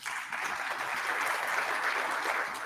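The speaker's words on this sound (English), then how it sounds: "Thanks for the applause." Audience applause at an annual general business meeting, a steady dense clapping that fills the room without a break from start to finish.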